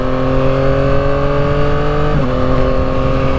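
A 2022 Yamaha MT-09 motorcycle engine hums loud and steady while riding during break-in, with a slight dip in pitch midway as the revs shift.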